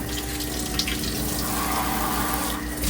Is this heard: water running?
yes